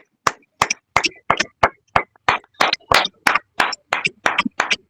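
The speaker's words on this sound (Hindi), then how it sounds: "आइए हम भी परमेश्वर की महिमा करें कुछ ताली के द्वारा।" Sharp, evenly spaced claps sound in a steady rhythm of roughly three per second, close and clear, as a congregation at a prayer service applauds to glorify God, with no talk over them.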